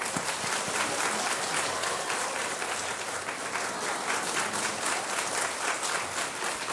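A church congregation at a revival service claps loudly to welcome the pastor, a dense, continuous burst of applause filling the hall from start to end.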